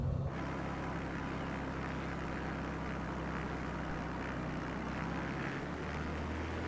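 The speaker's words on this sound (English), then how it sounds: "Annoy the people of this town with our noisy plane." A propeller airplane engine from a flight simulator game, on a bush-flying trip over a German town, drones steadily for the whole stretch. The broad, constant roar stays even and continuous, with no voices.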